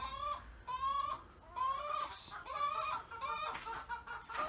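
Several chickens cluck and squawk continuously, close by, with overlapping calls rising and falling in a busy, steady chatter.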